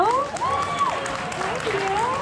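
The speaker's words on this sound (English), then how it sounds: "Can we get a round of applause for Theo?" The crowd at a kids' cosplay contest applauds a young contestant, with steady clapping and light cheering under excited, sing-song voices that ring out above it.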